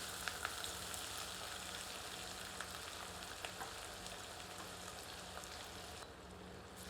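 Onions frying with cumin in oil for mutton curry, a soft continuous crackling sizzle with scattered pops, steady and fairly quiet throughout; no talking.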